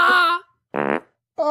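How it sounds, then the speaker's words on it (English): Three short farts in quick succession, the middle one a buzzy sputtering burst, close and loud with silent gaps between. "Those are vegan farts, dude."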